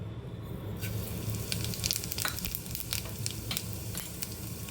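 Cumin seeds sizzle and crackle steadily in hot mustard oil, a continuous frying hiss with scattered sharp pops, moderately close and without talk, while cooking an aloo green garlic sabzi.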